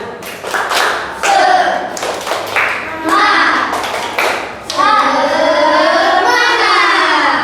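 Schoolchildren in a classroom perform the rhythmic Indonesian 'tepuk semangat' clap chant at the teacher's prompt, loud patterned hand claps and taps alternating with their voices chanting together, close and energetic.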